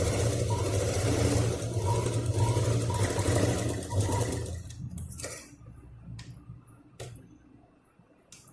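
An electric sewing machine stitches both sides of a folded fabric handbag piece, running in a steady rapid whir for several seconds before stopping, leaving only a few scattered clicks and handling sounds.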